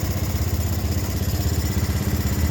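A Honda Beat ESP scooter engine fires up and runs at a steady, even idle with a rapid low throb, close and loud, with no talking.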